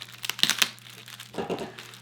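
Plastic wrap is pulled off a Tesla Semi diecast model box, giving a short burst of sharp crinkles, then a quieter rustling crumple, close up with no speech.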